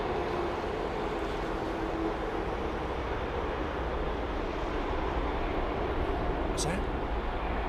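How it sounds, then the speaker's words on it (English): Rolls-Royce Trent 800 jet engines humming at London Heathrow Airport, a steady, dense broadband drone that stays level throughout, heard from a distance, with a person speaking briefly over it. "Listen to the hum of those Rolls-Royce Trent 7s. Listen, Trent 8s."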